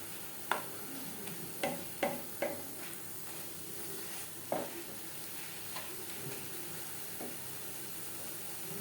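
Sandesh mixture cooks over a low-to-medium flame with a soft, continuous sizzle, broken by intermittent spatula scrapes and taps as it is stirred.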